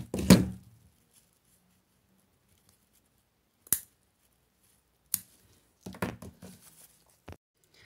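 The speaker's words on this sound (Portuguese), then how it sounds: "Agora aqui você já pode cortar." Scissors cut ribbon while a pompom is being made: one loud, crunchy snip at the start, then a few sharper, quieter snips and short bursts spaced apart, close up with silence in between.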